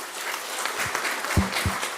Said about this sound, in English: So a big hand to all the people who have assembled on the stage.